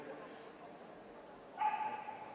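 Dogs at the South Wales Kennel Association championship show, in the working and pastoral group ring, give a short burst of yips and barks over a faint background murmur.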